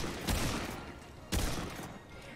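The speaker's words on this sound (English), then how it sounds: "we're just gonna start shooting again" Gunfire from the video game Remnant 2 comes in two loud, broad bursts, each a sharp hit followed by a decaying rattle, separated by about a second.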